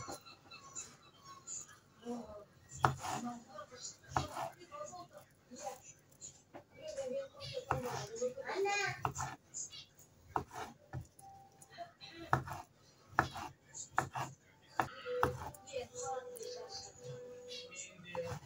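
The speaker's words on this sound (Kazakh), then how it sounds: "Қызылшамызды турап аламыз" A knife slices beetroot on a cutting board for a carpaccio salad, giving irregular, sharp, quiet taps, while a person talks over them throughout.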